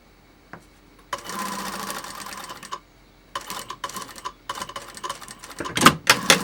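Short bursts of a sewing machine backstitching elastic onto a fabric mask, several quick runs separated by pauses, with a couple of sharp clicks near the end.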